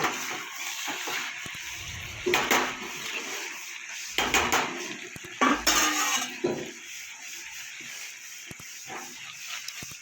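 A metal pan of mixed vegetable chorchori is lifted off a kitchen stove, giving a few close clanks and scraping knocks of metal between quiet pauses.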